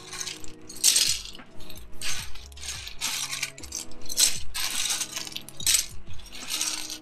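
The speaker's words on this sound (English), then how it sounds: "like when you scoop up keycaps and throw them in a bag." ABS keycaps are scooped up and tossed into a bag, giving repeated bursts of bright plastic clattering and clinking, close by and fairly soft, coming in irregular handfuls with no talking.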